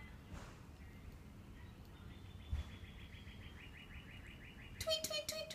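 A small bird chirps from a tree outdoors, a run of quick repeated tweets in the latter half, fairly faint against a quiet background with light rustling.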